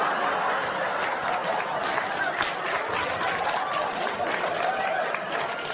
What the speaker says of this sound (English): Don't applaud that much.